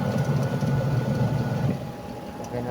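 A restored Fujidenzo double tub washing machine's spinner runs with a steady motor hum and whirring rumble, fairly close and continuous, dipping slightly in level partway through.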